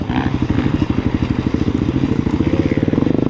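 A motorcycle fitted with knobby off-road tires, ridden on a rough road, roars loudly at full throttle with a fast, steady pulsing engine beat close by and no talk.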